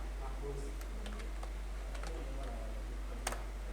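Someone types on a computer keyboard while entering data into an MS Excel spreadsheet: soft, quiet, irregular key clicks with one sharper tap near the end, heard close against a steady low hum.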